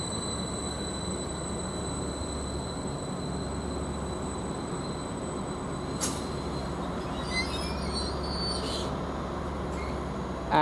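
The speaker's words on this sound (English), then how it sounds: "this train is just now departing" A Class 332 electric train pulls away from Derby Road station, a steady low rumble and hum with a faint high whine, rising to brief squeals and clatter near the end.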